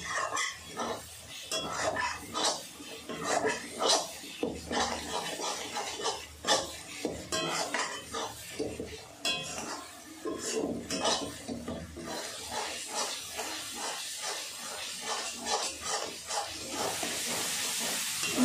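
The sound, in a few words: stirring and mixing spices in a pan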